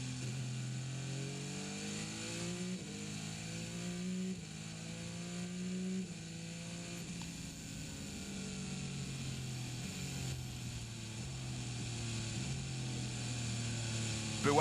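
A V6 turbocharged petrol race car engine at the 2017 24 Hours of Le Mans qualifying idles and drones with a buzzing, wavering pitch that rises and dips, steady and fairly distant throughout.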